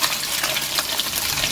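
Snakeskin gourami fish crisp-frying in a large pan, a loud, dense, steady sizzle and hiss filling the whole moment without speech.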